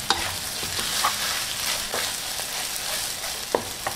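Rice noodles for pad thai stir-fried in a pan with ground roasted peanuts and dried shrimp give a continuous close sizzle, with light scraping and stirring clicks from the utensil throughout.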